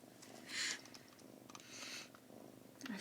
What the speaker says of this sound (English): that's a cat purring.